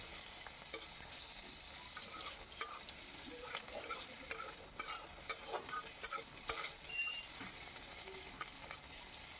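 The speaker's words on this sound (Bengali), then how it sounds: "ওগুলোকে একটু ঘিয়ে ভেজে নিচ্ছি" Pieces of onion fry in ghee, a constant crackling sizzle with scattered small pops and stirring scrapes, close and steady throughout.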